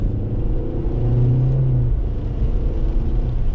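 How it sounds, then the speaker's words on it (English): A 2025 Kia K4 LX with an IVT transmission hums and rumbles steadily as the engine downshifts, its low drone rising slightly before settling, heard from inside the car with no talking. "Downshifts. They sound a little bit better in this IVT than the upshifts."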